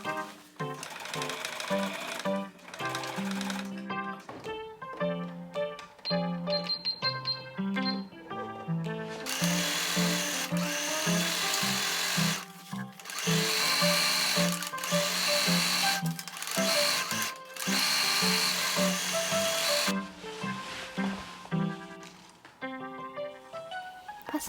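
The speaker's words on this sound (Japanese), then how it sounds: "ファスナーがつくところは粗めミシンで、そこから下は普通目で縫っていこう。" Sewing machine stitching a coarse basting seam where a zipper will go on garment fabric, loud rapid mechanical chatter in bursts separated by short pauses, with no voices.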